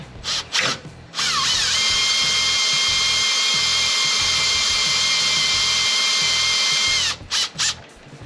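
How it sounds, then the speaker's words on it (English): A power drill whirs steadily for about six seconds at close range, marking a hole for a new trailer jockey wheel, with a couple of short bursts before and after the main run. "I'm just going to mark it with the drill as to where I want it to go"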